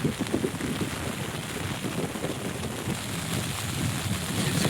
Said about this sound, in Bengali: জোয়ার লাগার মুখেই বৃষ্টিটা চলে এসছে